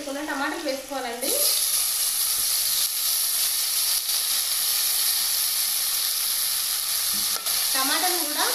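Tomatoes for okra curry hit a hot pan and fry with a loud, steady sizzling hiss, close up, with someone speaking briefly before and after.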